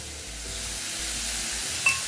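Pork ribs and noodles stir-fry in a wok with seasonings, giving a steady close sizzle and hiss and a short clink near the end.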